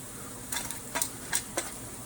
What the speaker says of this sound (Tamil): இப்போ எண்ணெய் சூடானதும் பாதி போல் பிரியாணி இலை, 2 போல் கிராம்பு